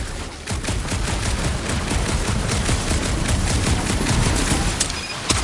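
Dense, continuous gunfire rattles loudly in the PS5 game Guardians of the Galaxy, with overlapping shots and bursts forming an unbroken barrage for several seconds.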